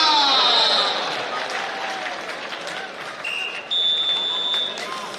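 A large crowd at a national kabaddi championship in Faisalabad gives loud, sustained applause. A commentator keeps talking over it, and brief buzzer-like tones sound near the end.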